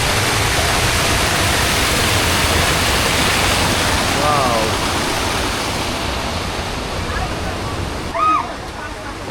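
Steady broadband rush of water flowing past a bamboo footbridge in rural Purulia, loud and close throughout, with a faint voice briefly heard beneath the roar near the end.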